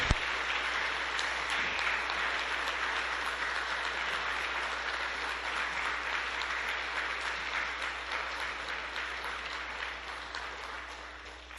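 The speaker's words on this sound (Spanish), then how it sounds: "Palmas triunfales para el Divino Padre Eterno" A congregation at a spiritual gathering bursts into sustained, dense applause that holds steady and loud for over ten seconds before tapering slightly at the end, with no voices standing out.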